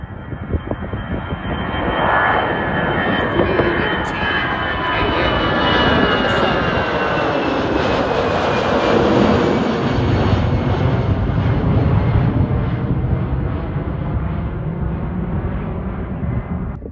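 An executive jet takes off down the runway with a loud, sustained engine roar and a high whine sliding in pitch, steady for a long stretch and slowly fading at the end.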